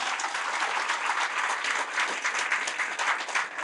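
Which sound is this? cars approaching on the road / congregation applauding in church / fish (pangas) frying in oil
congregation applauding in church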